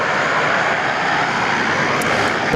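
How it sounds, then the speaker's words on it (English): A Korean Air Boeing 777 jet airliner roars past Sydney Airport near the runway, a loud, dense, steady engine rush filling the whole clip with no voices. "We'll give our Korean Air 777 a bit of love here"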